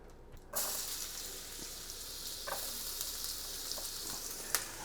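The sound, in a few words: onions and bread frying in a pan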